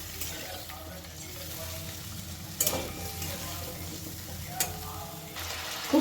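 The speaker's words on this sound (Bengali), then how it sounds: "খুব ভালো করে এবারে নাড়াচাড়া করে একটু কষিয়ে নেব।" Labra vegetable curry with spices and a little water being stirred and fried in a pan, a low steady sizzle under occasional sharp spatula scrapes and clinks, close and fairly quiet.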